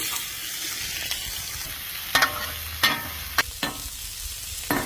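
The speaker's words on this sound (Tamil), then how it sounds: "சீரகத்தை போட்டுக்கலாம். வெங்காயம் பச்சை மிளகா போட்டுக்கலாங்க." Cumin seeds, sliced onion and green chili frying in hot oil in a pan, giving a close continuous hiss with a few sharp spatula scrapes and knocks.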